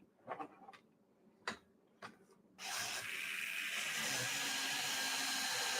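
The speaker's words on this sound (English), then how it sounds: "We're going to sand up the tires a little bit." Tires are sanded up with a few faint clicks and taps at first, then a steady, close abrasive rubbing that runs on without a break.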